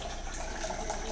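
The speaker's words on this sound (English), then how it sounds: "I'm gonna put some water in here or whatnot." Water runs into a container in a home kitchen as a soft, steady trickle and splash, faint and unbroken, with no talk.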